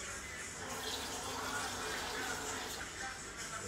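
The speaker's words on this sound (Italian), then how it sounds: "adesso mettiamo proprio una bella tazza d'acqua" A cup of water pours steadily into a cooking pot for lamb curry, a continuous close gushing splash that holds at an even level throughout.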